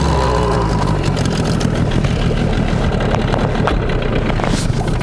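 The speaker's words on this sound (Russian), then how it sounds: "как работает мотор на троллинге" An outboard motor running at trolling speed on Sumitachi TC-W3 two-stroke oil, a steady low idle-like drone held close and continuous with no talk.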